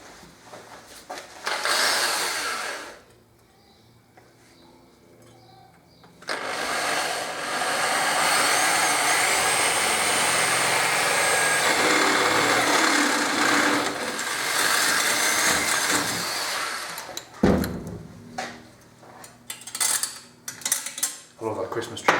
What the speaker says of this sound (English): So I'm going to drill this now